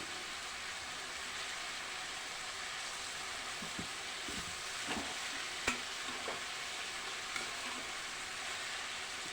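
Sliced capsicum is stirred into vangi bath masala in a pan, giving a soft steady sizzle with occasional scraping clicks of a spoon against the pan.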